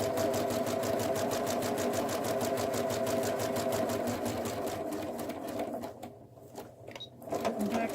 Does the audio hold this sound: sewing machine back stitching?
yes